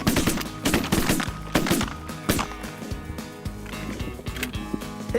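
Shotguns blast repeatedly at ducks during a waterfowl hunt, a rapid volley of close, sharp reports from several hunters firing in quick succession throughout, with no talking.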